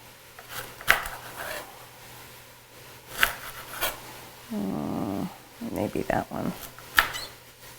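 Vegetables being cut into big pieces for a coconut curry soup: a few sharp knife knocks on a cutting board, near and moderately loud, with a brief spoken comment and some kitchen clatter between the cuts.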